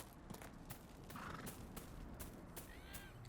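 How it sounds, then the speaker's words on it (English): A horse whinnies faintly in the video game Dragon Age: Inquisition amid low background noise, with soft clip-clop hoofbeats nearby; quiet and somewhat distant. "I thought that was my horse."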